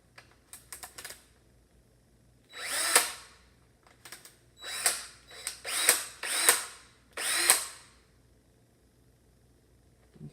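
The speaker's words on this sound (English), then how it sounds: "I cannot seem to get this other drill functioning properly" A malfunctioning power drill whirs in several short bursts of a second or so each, with brief clicks and pauses between them, close by and fairly loud.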